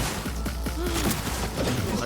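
Gunfire bursts from headshots in the video game Cyberpunk 2077, a few sharp shots and short volleys over a steady game soundtrack, fairly loud and close.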